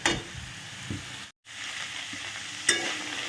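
Poppy seeds frying in a pan, giving a steady close hiss and sizzle with a few light stirring taps and a brief cutout partway through.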